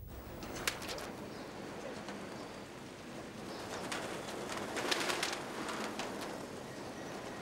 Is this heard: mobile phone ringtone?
no